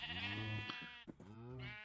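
Video game sheep bleating in a survival world, two wavering baas in a row with a brief gap between them, close and fairly loud.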